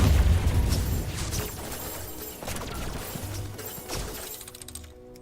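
Explosions in the co-op survival roguelite Steel Swarm, a series of crashing, shattering bursts with a heavy boom at the start, then repeated blasts fading toward the end.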